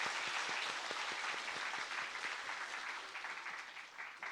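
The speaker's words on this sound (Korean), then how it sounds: "다시 한번 큰 박수로 격려하고 축복하겠습니다" A church congregation applauds its choir at the end of a Sunday service, with warm, dense clapping from many hands that starts strong and slowly thins out, with no talking over it.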